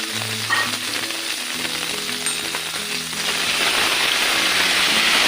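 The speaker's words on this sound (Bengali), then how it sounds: "একটু কালো জিরে ফোড়ন দেবো, তারপর দিয়ে দেবো পোস্ত বাটা।" Nigella seeds crackling in hot oil, then ground poppy seed paste with green chili added for rui posto, the steady frying hiss swelling into a louder, denser sizzle partway through, with no talking.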